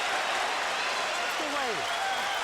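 Crowd at a world lightweight championship boxing bout applauding and cheering, a dense continuous roar of clapping throughout, with a voice rising briefly over it.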